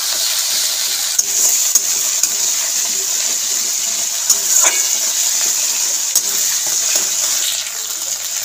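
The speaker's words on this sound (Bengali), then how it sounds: "আদা আর কাঁচা লঙ্কাটা দিয়ে দেবো। নেড়ে চেড়ে ভেজে নেবো একটু হালকা করে" Ginger and green chili paste stir-fries in hot oil in a pan, a continuous close sizzle with scattered scraping clicks from stirring and a slight easing of the hiss near the end.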